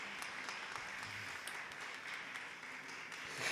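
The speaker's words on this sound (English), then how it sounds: "let's thank them with a round of applause" A conference audience at an internationalisation congress applauds the panelists, a soft, steady patter of clapping heard from a distance in a large room, even in level with no voices over it.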